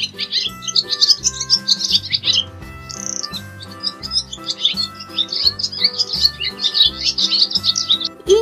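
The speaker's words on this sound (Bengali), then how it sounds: "ঘয়ে ঘুঘু পাখি ডাকছে গাছে।" A dove calls from a tree, its chirps and tweets scattered continuously over steady background music, fairly clear and close.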